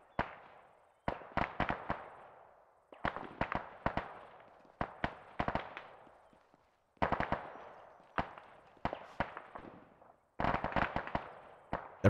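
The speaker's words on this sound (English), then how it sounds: "They're firing over there." Bursts of gunfire in the Antistasi Plus game, clusters of sharp distant cracks in quick volleys separated by short pauses, fairly faint with no talk.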